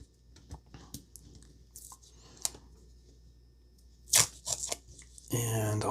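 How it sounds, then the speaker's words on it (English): Orange tape pulled and torn from a roll to label brush pens, with several short scratchy rips and small clicks scattered across the clip, ending with a louder tearing burst as a voice starts to speak. "So we'll get out the orange tape again."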